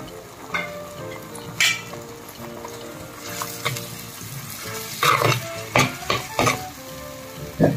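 Curry leaves and green chillies frying in hot oil in a pan for an Andhra-style egg and crab curry, a steady close sizzle with several sharp crackling bursts and spatters toward the end, no voices.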